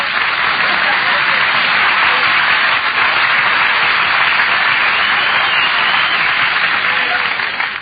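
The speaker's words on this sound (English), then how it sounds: "Nobody was supposed to applaud there." Studio audience at a comedy radio show bursts into loud, sustained applause, a dense wash of clapping that holds steady for the whole stretch and tapers slightly at the end, with no talk over it.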